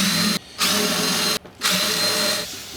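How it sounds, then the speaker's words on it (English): A power drill fitted with a countersink bit whines in three sustained bursts at close range while countersinking pilot holes in a wooden bathtub caddie project, with short pauses between bursts. "I'm going to go ahead and countersink those"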